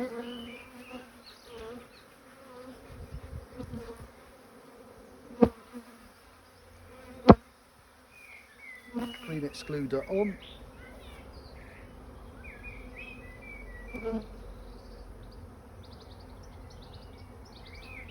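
Honeybees hum steadily throughout a spring hive inspection as a queen excluder and frames are handled, with a few sharp knocks and clatters of hive parts and brief talk over the buzzing.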